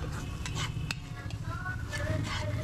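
Shredded chicken breast sizzling steadily in hot oil with garlic and bay leaf as it browns, with a spatula stirring and scraping the pan close by in a continuous crackle.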